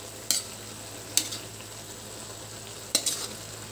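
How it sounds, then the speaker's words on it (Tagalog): Bitter gourd simmering in coconut milk is stirred in a pan, three sharp scraping clinks of a spoon against the pot over a low steady bubbling hiss. "Haluin po natin."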